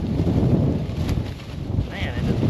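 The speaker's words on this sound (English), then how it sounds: "I hope the wind noise isn't too bad." Gusty wind buffets an outdoor microphone in an open field during a wind advisory, a steady low rumble with surging gusts filling the whole clip, plus a brief higher whistle near the end.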